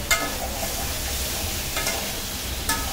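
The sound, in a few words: stir-frying drumstick and prawn curry in pan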